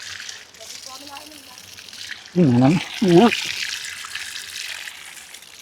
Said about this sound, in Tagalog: Ito, may bukal dito.